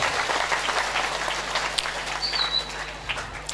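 A school assembly at an Islamic junior high (madrasah) in Central Java applauds a student Quran-reciting champion, giving a steady wash of clapping from a gathered audience, with a faint chirp partway through.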